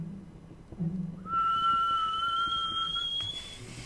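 An old teapot on a stove in The Last Door video game begins whistling, a steady high tone rising in pitch and holding for a couple of seconds over a low background hum.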